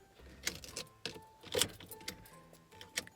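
Car keys jangle in an ignition that refuses to turn: a series of short, bright metallic jingles and rattles in uneven bursts, close and fairly quiet, with no talking.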